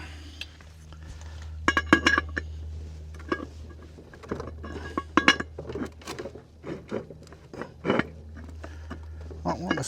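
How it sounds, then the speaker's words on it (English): Clanks and scrapes as the lid of a charcoal-heated Dutch oven holding a tater tot Tex-Mex casserole is slid back, a series of close metallic clinks and knocks over a low steady hum. "Slide the lid back."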